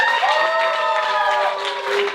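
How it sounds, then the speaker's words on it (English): A comedy-club crowd boos in a sustained, loud, droning chorus of many voices, steady for about two seconds with no pause. "I like that you booed when we asked you to make noise."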